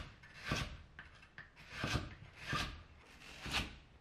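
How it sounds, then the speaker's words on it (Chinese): Kitchen knife slicing a soaked onion into thick strips on a board: four or five soft, separate cutting strokes spaced about a second apart, quiet and close, with no voices. "然后把洋葱全部切成稍微粗一些的丝"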